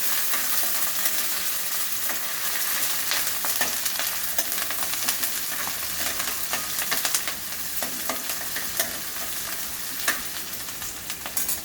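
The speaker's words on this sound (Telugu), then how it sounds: "ఉల్లిగడ్డ దీనిలో నూనెలో వేసుకొని" Onion frying in oil for a murmura snack, with curry leaves in the pan, makes a loud, continuous bright sizzle and crackle, broken by occasional stirring scrapes.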